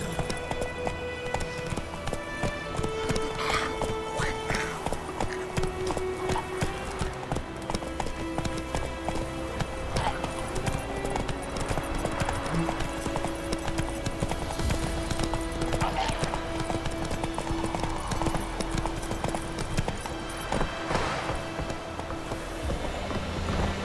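Horse hooves clip-clopping at a gallop in The Witcher 3 video game, a steady rapid rhythm running throughout over layered music and ambient game sound.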